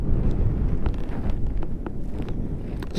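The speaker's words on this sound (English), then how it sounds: "God, it's windy today," Strong wind buffets a microphone beside wind turbines, a loud continuous rumble with gusting swells and no other clear sounds.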